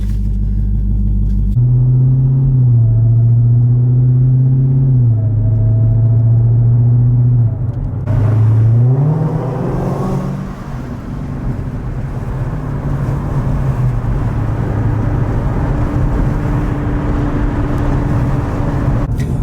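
Dodge Demon muscle car driving, a deep steady engine rumble with a low idle drone that climbs in pitch as it pulls away, then settles into a continuous road roar.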